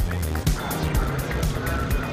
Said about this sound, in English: Ducati, clutch rattling, exhaust sounds in the background.